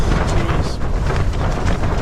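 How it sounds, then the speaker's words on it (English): Strong, roaring wind buffets a tent constantly with gusty surges and rumbling microphone noise, loud and close throughout. "Gusts slammed against the tent, shaking it violently."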